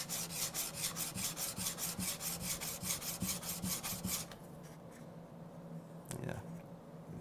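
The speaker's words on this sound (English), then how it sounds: "This is a little more coarse diamond stone. You can do it like this and hold it at 90 degrees." A blade honed on a coarse diamond sharpening stone in a woodworking shop, giving rapid rhythmic rasping strokes, close and steady for about four seconds, then quieter scraping.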